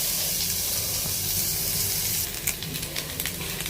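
Grated coconut roasting in a pan for crab curry, giving a steady bright sizzle that softens midway into lighter crackling with a few stirring scrapes, no talk.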